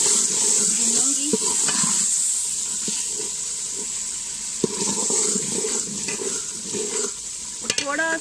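Water poured into a pan of frying spices for aloo matar sabzi, with a continuous hiss and sizzle, splashing and stirring throughout, and some light clinks near the end.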